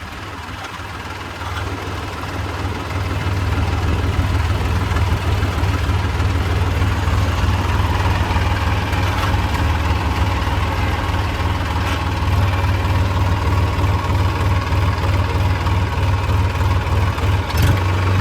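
A tractor engine runs steadily, a loud low rumble that builds in the first seconds and then holds at an even drone, close by, clearing stones from a field.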